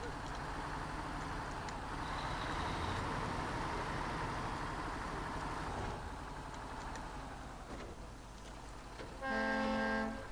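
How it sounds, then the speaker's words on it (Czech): A truck horn in the SnowRunner video game blares near the end, a loud, steady harmonic honk cutting over a continuous rumbling engine drone. "Jo, ale ta houkačka je dobrá teda"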